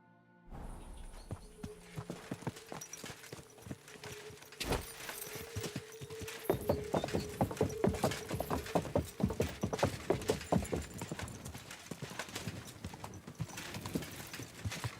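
Horse hooves clip-clop steadily in Kingdom Come Deliverance 2, a brisk rhythmic gait that grows louder and denser as the ride goes on, with a faint voice briefly at the start.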